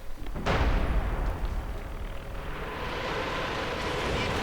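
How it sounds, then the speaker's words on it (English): A heavy artillery barrage in a Company of Heroes-style WWII strategy game: a loud booming blast, then a sustained rumbling roar of further shelling that stays dense and continuous. "Another barrage."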